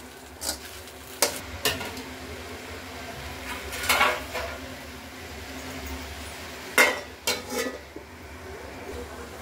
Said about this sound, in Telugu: ఓకే అండి, ఇంక మూత పెట్టేద్దాం.